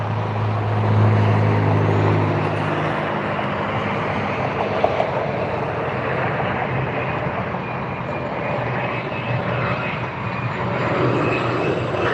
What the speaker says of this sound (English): It's an Air Sprint from Bonaventure, a Cessna Citation CJ3 Plus.